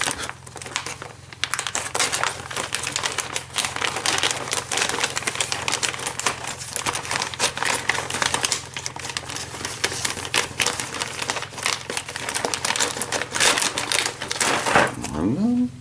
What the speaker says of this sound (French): on va déballer les pièces